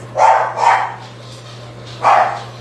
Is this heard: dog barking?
yes